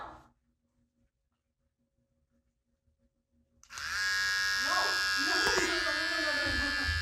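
An electric trimmer cuts a man's mustache: after a few seconds of near silence it switches on and buzzes steadily and loudly up close, with brief speech near the start.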